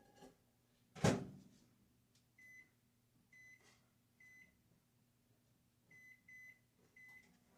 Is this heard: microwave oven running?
yes